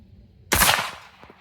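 A single loud pistol shot fired standing at slow pace with Blazer ammunition cracks sharply, followed by a brief decaying echo and faint trailing clatter.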